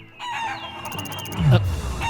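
Chickens clucking in the video game Shenmue 3 during a chicken-catching minigame, a few short clucks and squawks over game music, with a louder flurry near the end.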